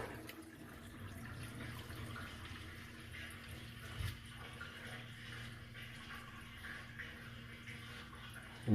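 A bathroom faucet runs steadily into a sink with the drain closed, a low, even wash of water that continues for several seconds, moderately quiet with a faint hum beneath it.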